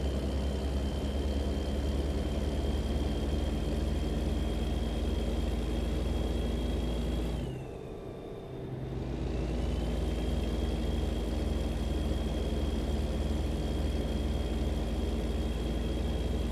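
A truck's engine drones loudly and steadily from inside the cab on a night drive. The low rumble dips briefly midway, then returns to the same sustained level.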